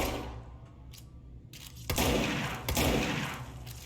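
Shotgun blasts fire in the video game Control, a couple of loud booming shots landing close together over a rumbling game background, with quieter clicks and thuds before them.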